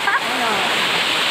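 Tang Falls, a waterfall in the Philippines, roars as a steady, dense rush of falling water that runs continuously and close by. Voices are faintly audible over the constant noise.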